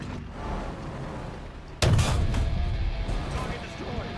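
A single heavy cannon blast from a Churchill tank in the building game Trailmakers booms out sharply over a constant engine rumble, then a long rolling echo follows.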